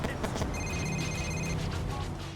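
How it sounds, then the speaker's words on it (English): In Grand Theft Auto IV, a vehicle radio picks up a pulsing electronic interference buzz before an incoming phone call or text, a steady stuttering tone mixed into the game's car audio. "A strange sound effect will play occasionally before you receive a phone call or a text when driving in certain vehicles"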